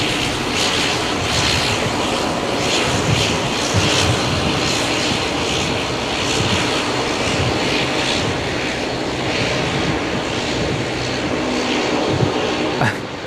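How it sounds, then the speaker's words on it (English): Dash 8 turboprop engines at Brisbane Airport, a loud continuous propeller drone heard from nearby, steady throughout with faint background voices. "The Dash 8. It's very loud."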